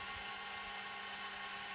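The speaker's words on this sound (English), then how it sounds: "Here I'm drilling it both ends to start with." Small CNC lathe drilling a Delrin acetal part for a motorcycle skid stop, a faint, steady high-pitched whine with constant hum and no breaks.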